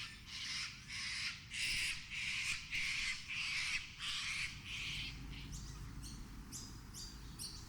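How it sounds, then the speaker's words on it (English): Sulfur-crested cockatoo in the wild in Australia giving a series of about eight harsh, raspy squawks in a regular rhythm, loud and fairly close, fading to shorter calls at the end. "Many, such as this sulfur-crested cockatoo, are not only present here,"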